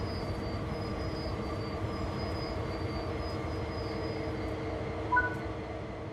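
A train rolls along in Train Sim World 3, a steady rumbling drone of wheels and motor with faint squeal tones and a brief louder clunk near the end, no talking.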